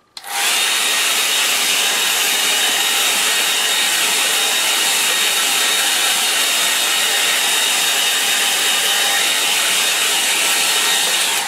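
A hair dryer drying a wet watercolour wash clicks on and then blows a loud, constant broadband whoosh close by, steady with no talking throughout.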